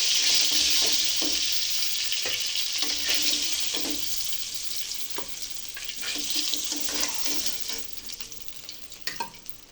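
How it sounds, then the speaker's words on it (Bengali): Tilapia fish sizzles steadily in hot oil in a pan, a dense close frying hiss broken by a series of soft scraping stirs, with no talking. "দেখেন ভালো করে ভেজে নিলাম কালারটা অনেক জোশ লাগছে"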